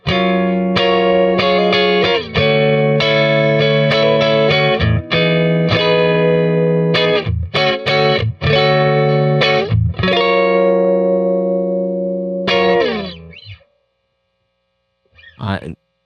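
Distorted electric guitar through a budget boutique Mustang neck pickup, with a warm, rounded tone, plays chords and riffs loudly for several seconds, then rings out and stops.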